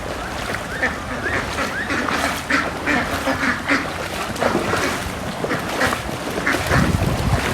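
Ducks quack repeatedly in short bursts against a busy outdoor backdrop with splashing river water, and a person's voice is heard now and then.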